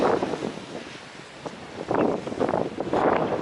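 Gusty wind on a trail buffets the microphone in surging waves, with louder rushes toward the end and no voices.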